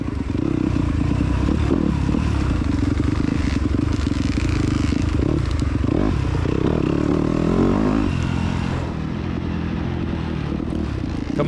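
Dirt motorcycle climbing a muddy hill during a cross-country race, the engine droning and revving hard close by, with clattering and scraping from the rough terrain throughout.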